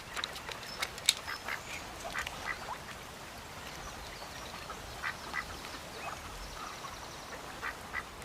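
Duck quacking in short, repeated calls at moderate distance, spaced irregularly over the stretch with faint background ambience and no talk.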